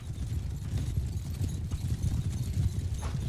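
Horse hooves clop in a dense, continuous patter from a cavalry charge in the medieval battle game Mount & Blade II: Bannerlord, moderately loud and sounding alone without talk.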